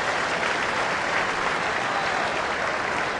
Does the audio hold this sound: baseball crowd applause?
yes